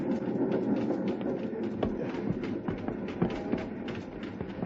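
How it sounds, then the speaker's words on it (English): Old steam train in a 1958 frontier radio drama, rocking and jolting over uneven rails: a dense, continuous rumble with irregular clattering knocks, close and fairly loud, with no voices. "The little train jumping, rocking over the uneven rails"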